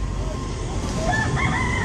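A rooster crows in a Barangay South Triangle street, with a short crow rising near the end over steady outdoor background noise.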